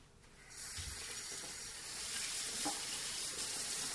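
Mangoes are rinsed one by one under a running kitchen tap, a steady close rush of water hissing into the sink throughout, with faint handling knocks and splashes.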